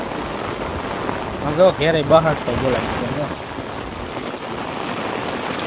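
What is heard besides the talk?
rain falling in a village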